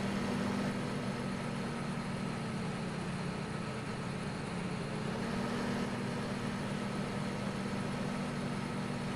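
A tractor pulling a planter in Farming Simulator 15 idles and runs at a steady low drone, a constant engine hum with no talk.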